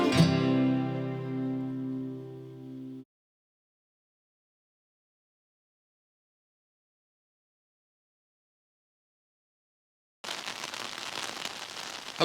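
Rain falls in a brief burst of dense, hissing patter near the end, after a tonal ringing opening and a long silence.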